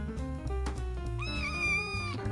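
A rescued cat meows in one drawn-out, wavering call that rises in pitch midway, heard up close over low rumbling background noise.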